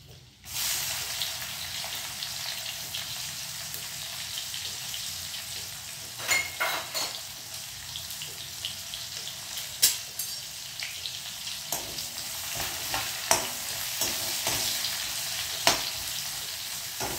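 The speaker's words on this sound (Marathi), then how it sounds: "कांदा घालते मी आता थोडासा लसूण तडकल्यावर." Onion dropped into hot oil where garlic is already sputtering, giving a steady close frying sizzle with scattered sharp pops and crackles throughout, no talking.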